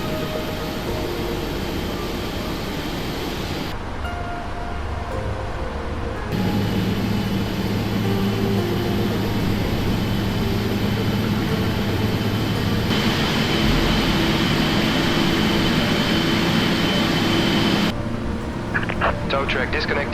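Boeing 777-200LR jet engines spooling up during start in a flight simulator, a steady loud roar and hum that shifts in level over time, with a voice talking over it.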